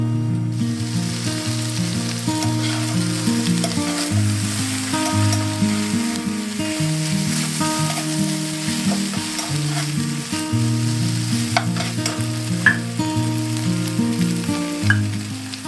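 Pork sizzles steadily in a pot for a stir fry, a continuous close crackle and hiss with the occasional scrape of stirring, and no talking.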